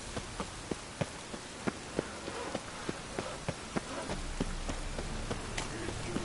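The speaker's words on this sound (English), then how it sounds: "Rain again." Steady rainfall in The Witcher video game, a soft continuous patter on surfaces with distinct heavier drops or taps ticking at a regular pace over the top, quiet and even throughout.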